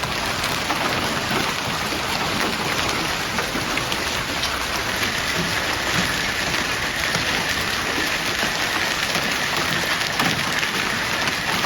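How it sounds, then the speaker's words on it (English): A hailstorm in Italy drops ice pellets in a dense, steady patter that keeps a constant level throughout, with no voices. "ice pellets began to fall, marking the start of a series of severe weather events"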